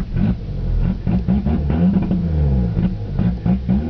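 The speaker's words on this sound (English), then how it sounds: "That throttle's not too responsive. It's misfiring." Eagle Talon car engine misfiring under throttle, a rough, uneven running engine with stuttering bursts and dips throughout, loud and close.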